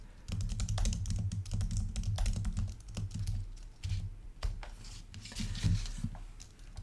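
Rapid irregular clacking of keys on a computer keyboard, close and fairly quiet, in uneven bursts with short pauses.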